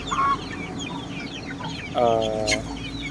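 Basilan chickens on a small chicken farm give a few short clucks and one longer drawn-out call, over a constant low background hum.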